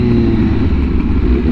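A Honda Fireblade RR-R SP fitted with an SC Project exhaust and a Stage 2 setup roars loud and close on a top speed run, a rough, sustained engine note with brief dips as if shifting.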